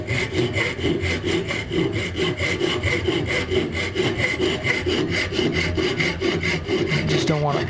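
A hand saw cuts through wood for a joint in a brisk, even rhythm of rasping back-and-forth strokes, close and loud throughout, ending with a brief scrape as the cut finishes.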